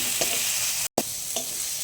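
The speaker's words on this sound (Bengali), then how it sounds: "তো মরিচটাও একটু ভাজা ভাজা করে নিই।" Turmeric, cumin and chili paste frying in a pan for a small-fish dish, a dense close sizzle with a few scraping stir strokes, broken by a brief silent gap.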